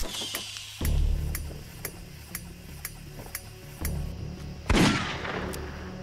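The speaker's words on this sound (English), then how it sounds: "So my only complaint about the Remington 1858 and 1875 models is the sound effects are pretty generic." A Remington 1858 or 1875 revolver in Fallout 4 fires in a southern swampland, making a string of sharp, evenly spaced shots over a few seconds, with a couple of heavier, booming reports standing out among them.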